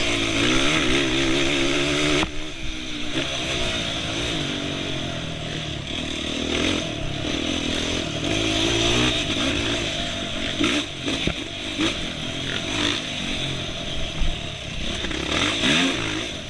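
Motocross motorcycles ride near a GNCC off-road race course, with a loud, raspy high-revving engine close by, its pitch surging and dropping repeatedly as riders accelerate and back off.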